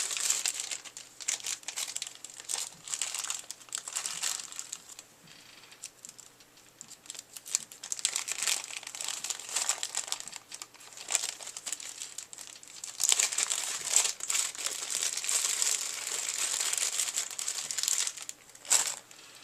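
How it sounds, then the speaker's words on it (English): Small plastic bag holding screws for a PC heatsink mount being handled, crinkling and rustling steadily for about twenty seconds, close up and fairly quiet, with louder bursts near the end and no talk. "we'll get out our little bag of screws"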